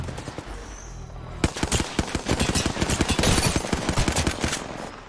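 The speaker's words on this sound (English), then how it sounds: "Firing." Rapid automatic gunfire from Apex Legends breaks out after a quiet stretch, dense bursts of shots rattling on steadily and loudly to the end with no talk over them.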